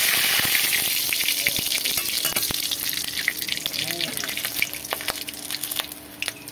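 Whole cumin seeds and bay leaves frying in hot oil alongside cinnamon, dried red chillies, cardamom and cloves for a vegetarian paneer dish, a steady close sizzle with scattered pops and crackles running throughout.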